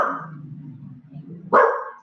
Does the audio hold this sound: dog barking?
yes